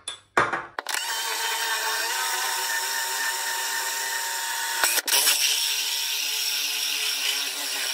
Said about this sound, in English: There is the size of hole you need to be drilling through, which is, this is a 35mm bit